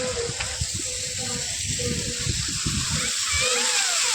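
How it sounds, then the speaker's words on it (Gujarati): Water gushes from a well pump on a farm in a steady, loud rushing hiss that runs throughout, while people talk over it. "પાણી કેમ આવે છે જો"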